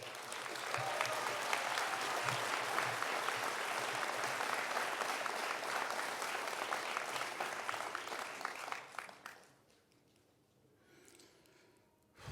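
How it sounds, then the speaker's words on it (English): A crowd at a Wiyot Tribe and City of Eureka ceremony for the return of Tuluwat claps enthusiastically for about nine seconds, then the applause quickly dies away into near quiet. "please give yourself a round of applause because you did the healing"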